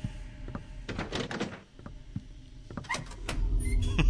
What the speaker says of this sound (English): Now that I've got the keys, I can start opening up the rest of these doors